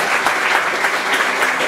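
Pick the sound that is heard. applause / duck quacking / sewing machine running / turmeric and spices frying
applause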